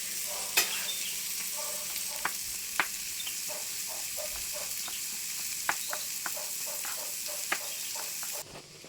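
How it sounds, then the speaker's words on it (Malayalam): Sliced onions fry in a pan for a crab curry and are stirred until brown, giving a steady soft sizzle broken by regular spoon scrapes and taps against the pan, close by and without voices. "അത് ഇതുപോലെ നന്നായിട്ട് ഇളക്കി സവാള ഒരു ബ്രൗൺ കളറാകണ വരെ ഇളക്കിക്കൊണ്ടിരിക്കുക."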